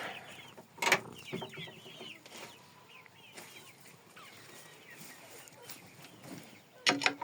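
Chinese silkie frizzle chickens, hens and a rooster, cluck and chirp softly nearby in short scattered calls, with a louder burst near the start and another at the end; no talking.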